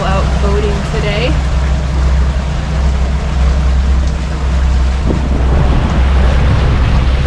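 An R27 boat cruises on open water, with the constant low rumble of the hull and engine, waves washing past and wind buffeting the microphone, loud and close throughout.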